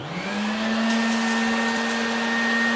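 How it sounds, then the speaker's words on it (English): A table saw's dust extraction system spins up and runs loudly, a steady whining vacuum roar with a rising pitch at the start, then a constant drone with no speech. "But if I turn the new dust extraction on,"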